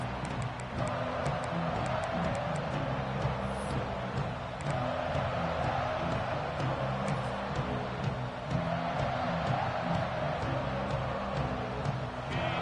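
A big football stadium crowd at a TCU game keeps up a dense, sustained roar that rumbles steadily for several seconds without clear peaks.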